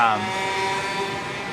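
A steady motor drone hangs over a noisy nighttime street intersection in Los Angeles, with bikes and scooters nearby, the engine tone holding level and fairly close for its whole short span.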